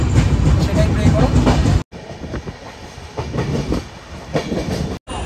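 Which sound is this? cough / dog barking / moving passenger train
moving passenger train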